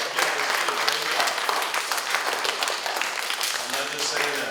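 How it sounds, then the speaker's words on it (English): Steady applause from a crowd at a summer academy graduation ceremony, dense continuous clapping held at full strength for several seconds. "Give yourselves a round of applause"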